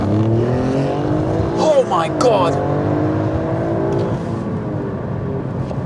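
Alfa Romeo Stelvio Quadrifoglio SUV accelerating hard in race mode, a loud sustained engine roar with rising and falling gear-shift sweeps midway, heard from inside the car under excited talk.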